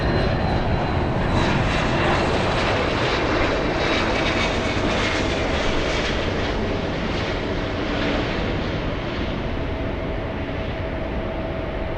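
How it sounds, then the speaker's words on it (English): Two Embraer E175 regional jets taxi at Los Angeles International Airport, their engines making a steady, loud, broadband roar with a whining tone that holds for the whole stretch, with no voices. "Now we have 2 E175s taxiing in front of the Queen"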